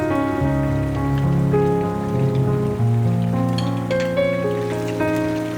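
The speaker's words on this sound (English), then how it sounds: "Once the oil is hot, increase the heat slightly and add the stuffed eggplants in a single layer." Stuffed eggplants fry in a single layer in hot oil in a pan, giving a steady, dense sizzle and crackle throughout, with soft tonal background music over it.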